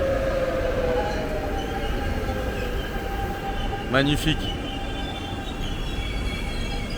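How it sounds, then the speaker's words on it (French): A Paris RER commuter train rumbles past steadily and close, with a brief high metallic squeal partway through. Someone speaks briefly over the rolling noise. "Regardez-moi ce beau RER."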